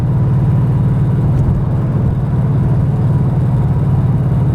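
Modified second-generation Ford Mustang with a long-tube manifold and fenderwell intake, its engine revving hard and close, a loud steady low drone of high-RPM power with no pauses.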